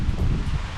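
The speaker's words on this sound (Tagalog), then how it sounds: "Mahangin. Ngayon, Sobrang hangin pati." Strong wind buffets the microphone outdoors at a rural bamboo hut construction site, a loud, steady low rumble with rustling, with no voices.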